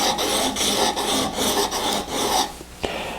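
A woodworking gouge is sharpened while being rocked back and forth, producing close rhythmic rasping strokes about two or three per second. They stop near the end, leaving a quieter pause and a single short scrape.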